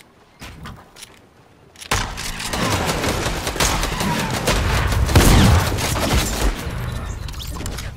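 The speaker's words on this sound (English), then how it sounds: "Oh, he's getting sniped at." Rapid gunfire erupts in a Fortnite match after a quiet start, a dense sustained burst of shots and booms from a sniper exchange, loud and continuous for several seconds with no talk.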